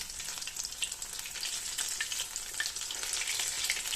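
Spinach cheese balls frying in oil over a medium-low flame, a close, continuous bubbling sizzle with fine crackles throughout.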